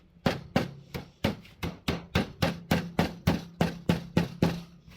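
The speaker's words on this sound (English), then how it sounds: "keep at an angle, hammering over" Steady hammering on sheet metal, rolling its edge, about fourteen sharp ringing blows in an even rhythm, loud and close with a metallic resonance after each strike.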